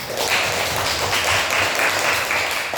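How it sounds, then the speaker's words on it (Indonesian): Students clapping hands in a school counselling session, a steady, dense round of applause that holds at an even level throughout without clear talk over it. "tepuk tangan"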